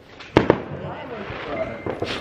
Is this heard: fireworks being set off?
yes